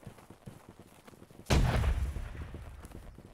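A single heavy cannon shot booms in the Holdfast battle game, a sharp loud blast followed by a rumbling decay over faint background battle noise.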